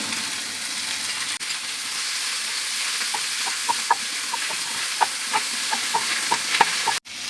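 Tomatoes frying with salt and spices in a pan, a steady close sizzle with a run of small popping crackles and light stirring taps, ending with a sharp knock of a utensil, no voices.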